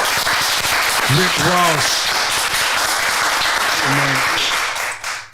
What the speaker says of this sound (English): Let's clap it up, man, for a real love, man.